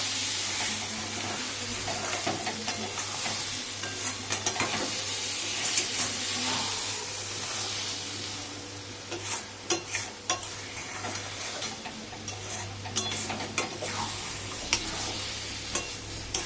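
Coriander leaves being stirred into eggplant mash in a hot pan, a steady loud sizzle and hiss with scraping spoon strokes growing more frequent toward the end, no talking.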